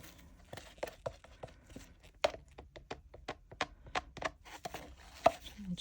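Leftover resin scraped out of a cup for a beach-theme resin trinket tray: a steady run of short, sharp taps and scrapes, close and moderately loud, with no talking.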